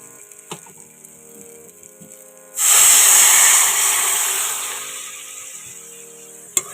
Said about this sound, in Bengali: এবারে মশলা ধোয়া জলটা দিয়ে নেব